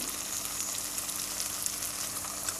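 Tamarind dropped into hot oil for a spicy raw tamarind pickle gives a steady, close, continuous sizzle and crackle of frying, with no talking.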